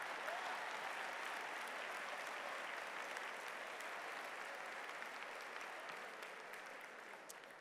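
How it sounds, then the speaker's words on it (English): A banquet audience at a conference awards dinner applauds in a steady, even wash of clapping that stays fairly distant and tapers slightly toward the end. "You better clap a little more,"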